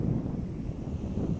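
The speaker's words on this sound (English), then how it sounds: "And it's very windy here." Low, blustery wind on the Aegean coast of Rhodes buffets the microphone in uneven rumbling gusts throughout, with no voices.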